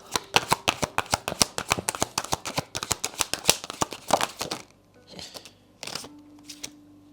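Tarot cards shuffled close up in a rapid run of crisp riffling snaps that ends, followed by a few slower card taps and slides, with no talking.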